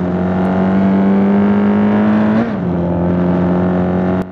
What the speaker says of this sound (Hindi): अब गाड़ी स्टार्ट हो चुकी है, बस मुझे भगाना है